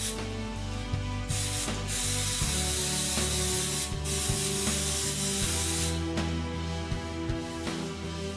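Spray adhesive hisses out of an aerosol can onto quilt batting in several sharp bursts, close and loud, with rubbing and handling noises between sprays.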